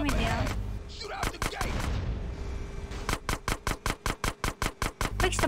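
Rapid bursts of gunfire aimed at cars in GTA San Andreas, a few loud shots early, then a tight regular volley of about a dozen evenly spaced cracks, close and dominant over background game noise.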